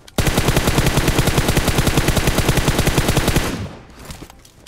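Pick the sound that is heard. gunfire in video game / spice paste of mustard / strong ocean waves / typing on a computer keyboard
gunfire in video game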